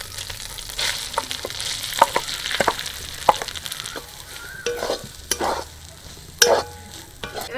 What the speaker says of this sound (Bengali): আদা কাঁচা লঙ্কাটা একটু ভেজে নেবো